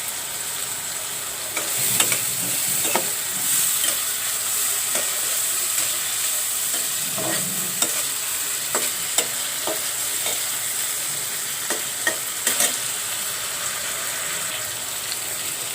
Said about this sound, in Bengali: আমি চিংড়ি মাছগুলো একটু কষিয়ে নিলাম।